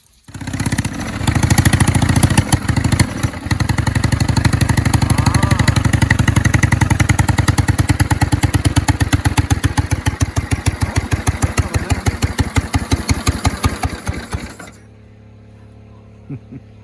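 A modified off-road lawnmower engine, apparently fitted with snowmobile carbs, cranks and catches, then runs loudly with a rapid, even chugging beat before slowing and cutting off near the end.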